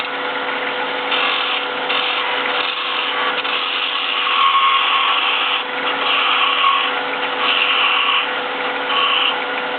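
A skew chisel cuts spinning wood on a lathe while a finial is turned, giving a steady, close, continuous scraping hiss that swells and eases in long passes with no pauses.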